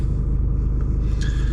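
Low steady rumble of a Mercedes E220d 2-litre diesel car engine with a 9-speed automatic, heard close and loud from inside the car, with a faint high chirp near the end.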